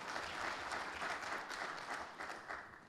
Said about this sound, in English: Let's give Akko a round of applause